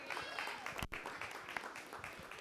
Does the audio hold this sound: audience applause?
yes